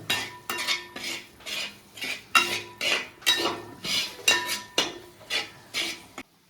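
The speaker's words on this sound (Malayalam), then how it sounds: "ഒരു ടീസ്പൂണ് ഗരം മസാല ഇട്ട് കൊടുക്കട്ടെ നമുക്ക് നന്നായിട്ടൊന്ന് മിക്സ് ചെയ്യാം" Garam masala being stirred into chicken chukka in a pan, a metal spoon scraping in about a dozen regular, close strokes with clinks against the pan and no talking.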